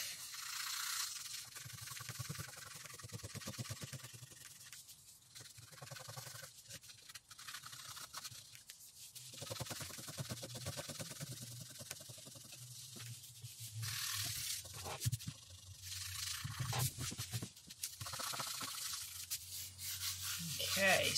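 A mokulito wood block coated in patches of masking fluid is rubbed by hand in long, continuous scrubbing strokes, a soft, steady friction rasp that swells and fades over about twenty seconds.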